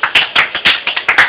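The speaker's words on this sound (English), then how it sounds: "Big round of applause." A handful of quick, sharp hand claps close by, about eight in a loose uneven rhythm, with no talk over them.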